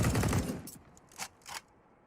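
Counter-Strike gunfire: a dense burst of rifle shots rattles at the start, then a few sharp, separate shots ring out as it fades.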